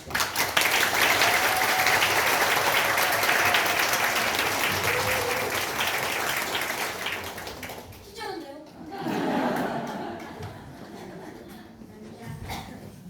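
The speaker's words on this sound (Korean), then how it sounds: "여러분의 정말 뜨거운 박수가 필요합니다." A workshop audience applauds loudly for a fifth-grade student coming up to present, a sustained dense clapping that fades after several seconds into murmuring, scattered claps and a voice.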